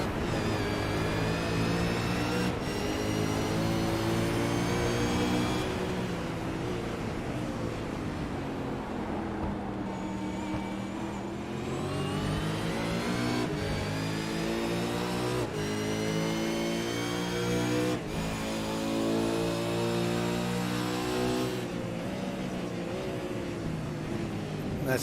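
An East Coast V8s race car engine roars and revs on track, loud and sustained, its pitch rising and falling through gear changes with steady harmonic drone throughout.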